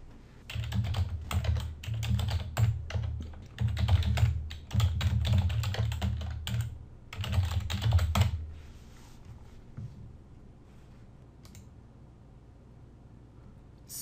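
Computer keyboard keys tapped in quick bursts while a password is set, close and crisp, with short pauses between runs of keystrokes, then trailing into quiet room tone.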